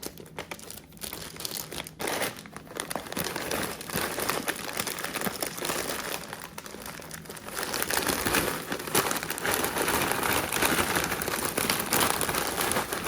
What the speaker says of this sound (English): I'm gonna open up Frito chili cheese Fritos, and then I am going to pour them inside of a plastic bag